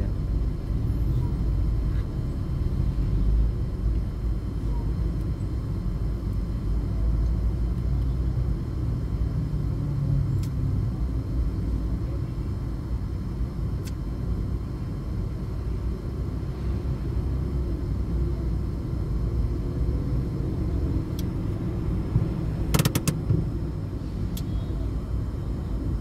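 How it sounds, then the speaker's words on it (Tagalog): Heavy road traffic near C5 in Quezon City, Metro Manila: a loud, continuous low rumble of engines and tires heard from inside a vehicle, steady throughout, with a few faint clicks. "Traffic."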